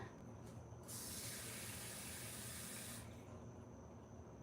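A cup of water is poured into a mixing bowl of meatloaf ingredients in a home kitchen, a steady splashing gush lasting about two seconds over a quiet background hiss, with no talking.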